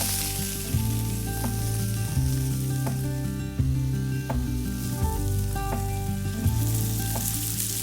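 Meat searing loudly in a hot pan, a steady close sizzle with occasional crackles and pops running throughout without any talk.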